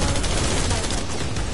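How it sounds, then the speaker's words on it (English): Rapid, continuous gunfire from guns in a zombie survival video game, a dense unbroken burst of shots played loud and close with no talking over it. "I'm just shooting random gun bullets"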